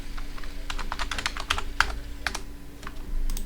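Keys clatter on a computer keyboard in quick irregular bursts while a new Ubuntu virtual machine is named in VirtualBox, close and clear over a low steady hum, with no one speaking.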